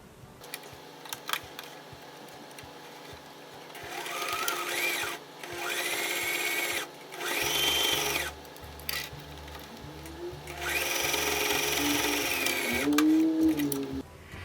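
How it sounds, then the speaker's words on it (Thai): Sewing machine stitching over the side edge of a fabric roll-up pen and notebook case, running in several steady bursts with pauses between them, close and moderately loud, with no talking. "เราก็จะนำไปเย็บ ทับบริเวณขอบด้านข้างอีกครั้งหนึ่งค่ะ"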